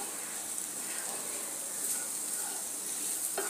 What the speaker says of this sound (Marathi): मसाले एकजीव होईपर्यंत आपल्याला परतायचे आहे